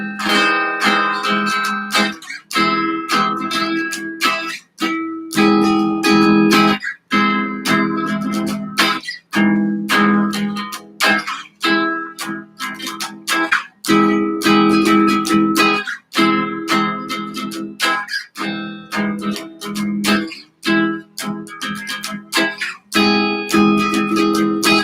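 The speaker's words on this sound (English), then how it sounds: "Now the inside rhythm chords sound like this." Guitar strummed in inside rhythm chord shapes with the pinky added, steady rhythmic strums with brief gaps between chord changes, loud and close, played alone with no talking.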